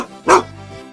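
A Golden Retriever lets out a single loud, close bark that trails into a softer whine-like tail, alone without talk.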